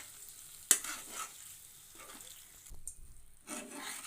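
A spoon stirs red sauce pasta with melted cheese in a pan, giving soft, intermittent scraping and squelching strokes with a faint sizzle, close and fairly quiet.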